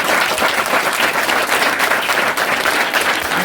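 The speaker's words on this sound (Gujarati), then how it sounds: "ત્રણેયને જોરદાર તાળીઓથી વધાવો." A school crowd gives loud, sustained applause for three students, dense clapping that carries evenly through the short stretch with no speech over it.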